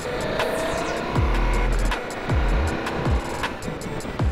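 A Ducati Multistrada V4S motorcycle accelerating hard, its engine revving up through several quick gear changes with rising and dropping pitch, loud and close under steady wind rush.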